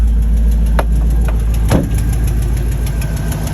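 A 2005 Hummer H2 engine idles close by with a new alternator fitted, a steady low rumble with a rhythmic ticking from an exhaust manifold leak and a few sharp clicks.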